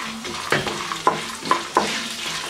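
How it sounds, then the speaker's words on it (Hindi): Peanuts dry-roasting in a pan for quick chiwda, stirred continuously with a spoon, giving a soft rattling sizzle punctuated by four sharp scrapes and clacks against the pan. "मूंगफली दाना को भी थोड़ा टाइम के लिए इसी तरीके से लगातार चलाते हुए भून लेंगे।"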